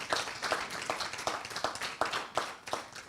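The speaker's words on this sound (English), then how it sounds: "Maybe we can give a round of applause to our great panel today." Applause from an audience at a live travel conference panel, a steady patter of many hands clapping with regular accented peaks, fairly near and continuous for the whole stretch.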